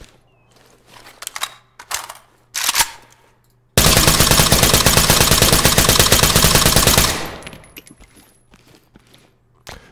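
Sustained rapid automatic gunfire from a SWAT-style video game bursts in at full loudness for about three seconds. It is preceded and followed by scattered shots, clatter and other game sounds.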